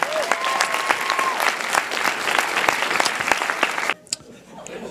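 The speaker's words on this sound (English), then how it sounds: "a round of applause for them for working so hard to entertain you" Dense audience applause at a horror film premiere in Sydney, Cape Breton, loud and steady with a whistle early on, stopping abruptly near the end and leaving faint room noise.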